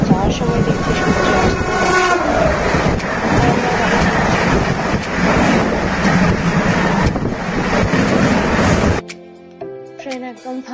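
Passenger train to Bardhaman heard from inside a carriage: loud continuous rumble and wheel clatter with wind buffeting, a horn blast near the end as the roar drops away.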